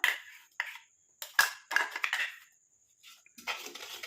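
Hibiscus leaf paste being mixed in a bowl for a homemade hair dye, with short bursts of scraping and clattering separated by silent gaps, close and fairly loud.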